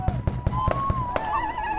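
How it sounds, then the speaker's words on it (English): A rapid string of loud sharp bangs of celebratory gunfire, about eight in quick succession, then a sustained tone lingers as the shots stop. "The song of the American Indian movement mingled with eruptions of celebratory gunfire"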